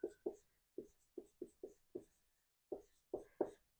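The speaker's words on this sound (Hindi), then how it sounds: "इसे यहाँ लिखेंगे पहले एटमॉस्फेयर," Someone writes a word on a board, producing about a dozen crisp, close taps and strokes in quick irregular bursts with a short pause midway, and no talking.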